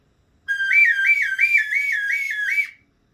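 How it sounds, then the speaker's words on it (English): A duck call played with a finger over its hole gives a single clear, wavering whistle of about two seconds, close and loud, alone with no talk. "So you can do tons of different whistle calls with this one."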